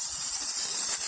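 Steady hiss of water spraying across a patio, a continuous broadband rush held at an even level throughout, with no voices.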